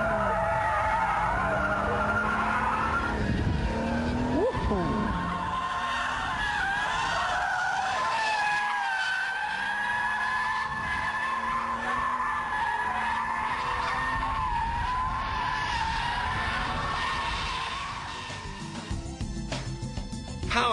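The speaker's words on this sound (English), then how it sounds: "Power slides are a bit trickier than donuts, but then they are more fun too." A BMW Z3 power-slides around a large open square at about 50 mph in second gear, its tires squealing in a long, loud, continuous skid that wavers in pitch over the engine's drone before easing off near the end.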